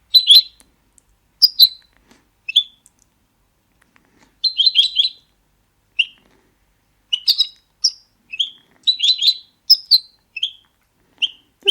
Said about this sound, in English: And the real goldfinch is like this.